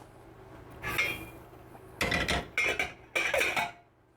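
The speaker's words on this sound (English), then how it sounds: "I'll give this a quick stir, and then I'm just going to put it back on the heat behind me" A spoon stirs a sugar brine for pickling cucumbers in a pot, giving a few short scraping clinks against the metal in separate bursts, with quiet gaps between them.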